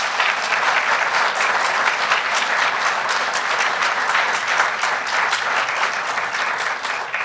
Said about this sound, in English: let's again give our students a round of applause.